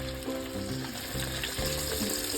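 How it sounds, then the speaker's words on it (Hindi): Breadcrumb-coated iftar snacks deep frying in hot oil, a steady close bubbling sizzle running throughout with no voices. "अब हम इसे डीप फ्राई करेंगे इस तरह से।"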